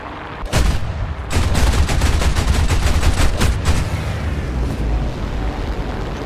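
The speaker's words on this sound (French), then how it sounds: "Oh le bruit des 30 mm mon gars." Rapid 30 mm cannon fire in the War Thunder video game, a loud continuous burst of heavy booming shots that starts with a short blast, then rolls on for several seconds before tapering off.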